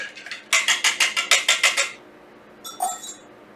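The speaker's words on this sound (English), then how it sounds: "to this mixture now, I'm going to add cider, and let's give it a good mix" A utensil beats cider into apple fritter batter in a bowl, a quick run of about nine rhythmic clinking strokes, then a pause and a couple of softer taps, close by with no talk.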